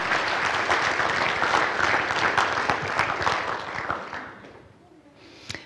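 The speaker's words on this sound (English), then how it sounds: "Ladies and gentlemen, join me in applauding this group of human services professionals." Audience applause for a group of human services professionals at a campus signing-day ceremony, dense steady clapping from a crowd that thins and fades near the end.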